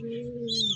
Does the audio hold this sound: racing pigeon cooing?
yes